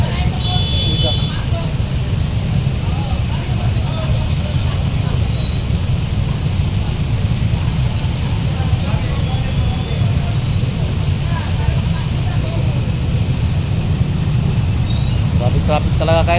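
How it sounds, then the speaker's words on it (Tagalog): Heavy road traffic in a long jam gives a constant low rumble of idling and creeping vehicles, with occasional higher whines and beeps, while a voice talks over it throughout. "Traffic talaga ka-idol. Kasi mga sasakyan dito nagbalagbag din. Sobrang balagbag. Kaya sobrang sikip. Sobrang traffic talaga."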